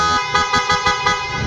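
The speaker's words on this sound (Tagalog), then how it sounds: "Yung busina." Horn blasts from a PIAA horn fitted to a TMX 125 Alpha motorcycle, a series of short rhythmic honks repeating about twice a second, loud and close with no talking.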